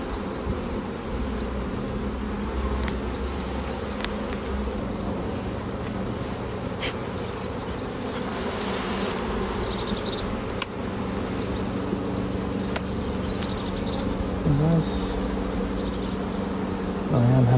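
Honey bees drone steadily at an open hive during an early-season swarm check, a dense close buzz that runs throughout with occasional louder passes of individual bees near the listener.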